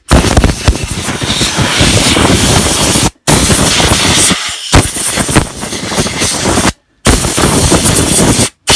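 WD-40 being sprayed onto the carburettor of a Hayter 41 lawn mower, loud close hissing bursts of aerosol in several long sprays separated by brief pauses.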